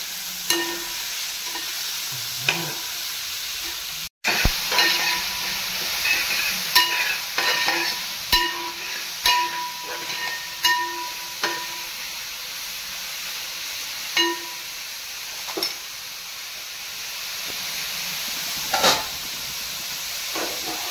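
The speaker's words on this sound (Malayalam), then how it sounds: "നമുക്കിതൊന്ന് ഇളക്കി കൊടുക്കാം കേട്ടോ" Sliced onions for chicken biryani stirred in a sizzling pan, a steady frying hiss with repeated scrapes and knocks of the spoon against the pan, close up and continuous with no talking.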